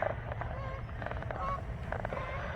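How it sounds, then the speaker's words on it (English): Geese honk repeatedly in the distance over a low rumbling background near a CSX railroad main line, their calls overlapping in loose bursts. "here's some geese somewhere."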